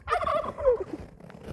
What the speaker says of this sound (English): the turkey's following Tristan.